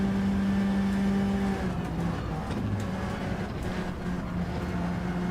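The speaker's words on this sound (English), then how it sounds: "This car sounds like a vacuum cleaner." Gran Turismo 7 race car engine in a Gr.4 or Gr.3 online race, a steady droning, vacuum-like whine holding a constant pitch with small shifts, loud and continuous throughout.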